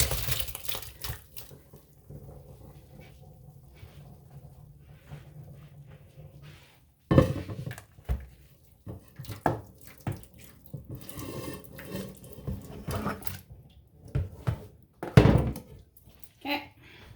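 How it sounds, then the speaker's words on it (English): Boiled potatoes being drained from a pot for homemade pierogi, with water pouring and splashing into a sink in uneven bursts, some louder clatters of the pot, close by and without talk. "just get the potatoes drained"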